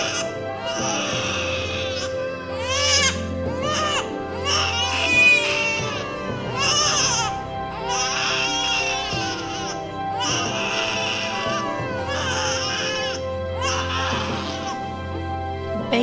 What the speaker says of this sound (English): New babies can't talk yet, but they do make a lot of noise sometimes.